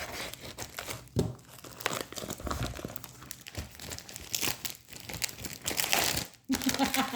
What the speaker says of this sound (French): Alors, ça fait un peu de bruit, désolé. Je déteste les bruits de plastique.